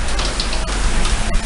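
Steady rain pours in Noi Bai, Hanoi, Vietnam, a loud dense hiss of drops hitting surfaces close by, with no voices.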